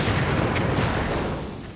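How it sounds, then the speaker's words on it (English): WWI artillery shelling, a dense, continuous roar of booming blasts that fills the whole short stretch at a loud, even level, with no talk. "At dawn, the shelling began."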